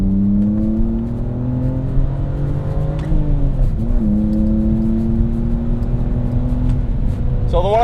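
BMW M3 built as a race-style car with a welded differential and drive-by-wire throttle, its engine revving loudly and steadily with rising and falling pitch and a sharp exhaust pop near the end, heard up close.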